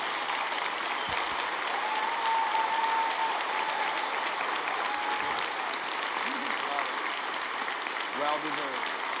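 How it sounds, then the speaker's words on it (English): A room full of listeners gives Liz a long, sustained round of applause, a steady dense clatter of clapping that carries on for several seconds while voices talk over it. "Can you give the most incredible round of applause for Liz?"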